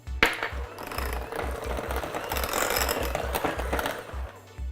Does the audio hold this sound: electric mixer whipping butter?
yes